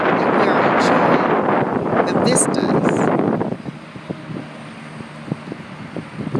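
An outdoor breeze in the Blue Ridge Mountains on a sunny late-fall day buffets the microphone in a loud roaring gust for about three seconds, then eases to a quieter background.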